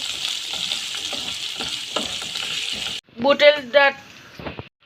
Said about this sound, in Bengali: পেঁয়াজ কুচি করে রেখেছিলাম, ওইগুলি তেল আর মরিচের পেস্টটার মধ্যে দিয়ে দেব